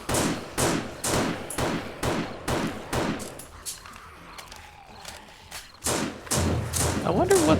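Rapid bursts of gunfire from a zombie survival video game, loud repeated thumping shots in quick clusters, pausing briefly midway before resuming at full intensity.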